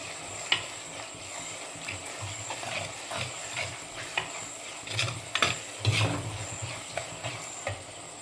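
Garlic, ginger and green chillies are stirred in a frying pan for a mackerel curry, with a soft continuous sizzle under repeated scraping strokes of a spoon and a few sharper knocks against the pan, close and without voices.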